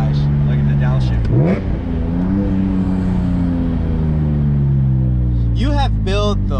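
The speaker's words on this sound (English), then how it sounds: "Look at the downshift." A 2001 BMW M3 Touring wagon's engine blips and revs through a downshift, its pitch dropping then climbing in loud, close sweeps while people talk and react over it.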